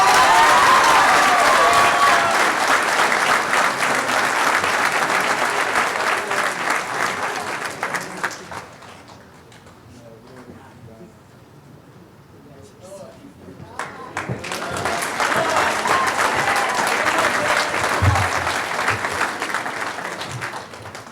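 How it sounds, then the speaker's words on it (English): An audience at a school commencement ceremony applauds loudly and steadily, fades to a quiet lull for several seconds, then swells into a second strong round of clapping. "let's give another round of applause."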